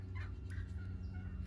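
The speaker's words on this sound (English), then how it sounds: "Now the turkeys are going to add in." Turkeys gobble in a few short, faint bursts over a steady low background hum, with no talking.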